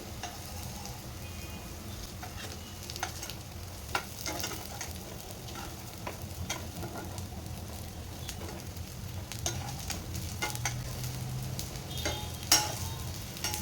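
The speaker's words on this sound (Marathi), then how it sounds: "एका बाजूने 3-4 मिनिटं झालेली आहे, दुसऱ्या बाजूने पलटून घेते।" Soybean kebabs frying in a pan give a steady, close sizzle with occasional scraping and stirring noises from a spatula, continuous throughout with no talking.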